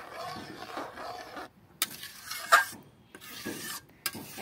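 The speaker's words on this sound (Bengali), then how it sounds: "এবার দুধটা দিয়ে ভালো করে নেড়ে চেড়ে নেবো।" A spoon scrapes and stirs papaya chutney with added milk in a pan, giving uneven rasping strokes with short pauses and a couple of sharper clinks against the pan.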